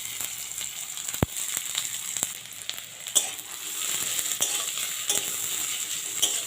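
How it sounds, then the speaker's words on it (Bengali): Chopped onions sizzle steadily in hot mustard oil with a dried red chilli, a continuous bright frying hiss with occasional sharp crackles and pops, close and fairly loud, no talking. "পেঁয়াজটাকে আমি একটু লাল লাল করে ভেজে নেব 2-4 মিনিট সময় ধরে।"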